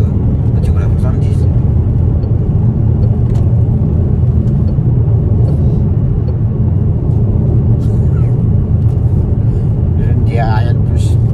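Car cruising at about 70, a steady loud low road rumble and engine drone filling the cabin throughout, with people talking over it.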